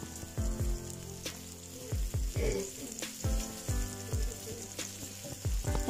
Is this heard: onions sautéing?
yes